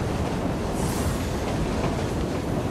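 Train from the Assassin's Creed Syndicate video game rolling on its rails, a loud, steady rumble with a faint clickety-clack of the wheels throughout, with no talk.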